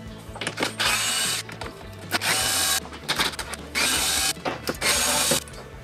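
A power tool backs out T30 screws on a car engine bay cover in short, loud, close whirring bursts, about four of them, with brief quiet pauses and handling noises between.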